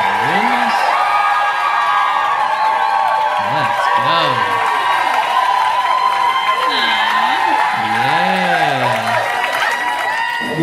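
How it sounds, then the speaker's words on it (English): A rowdy audience at a choir show cheers, whoops and claps loudly and continuously, with shouted voices and a voice talking over the din. "this is a rowdy crowd for a choir show"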